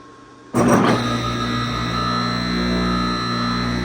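An American Woodworking Machinery Company No.1 jointer with a direct-mount motor switches on with a sudden loud burst, then settles into a steady, loud humming whir with sustained tonal drone.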